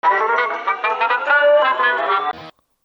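A 1985 song plays as a short, loud, mid-heavy burst of hard rock with layered vocals and guitars, then cuts off abruptly.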